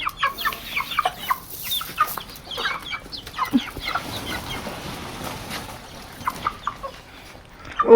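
Chickens clucking in short scattered bursts across a busy outdoor farmyard, fairly close, with no talking.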